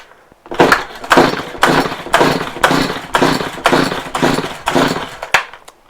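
A Stihl HS45 hedge trimmer that won't start gets its recoil cord yanked about nine times in a steady, quick rhythm, each pull a loud rasping burst with a brief gap between, up close and with no talking.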